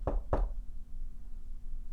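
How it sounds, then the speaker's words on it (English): Two quick, firm knocks on a back door, close and sharp, followed by quiet waiting with only a low steady hum in the background. "he shuffles up the steps to the back door and he knocks"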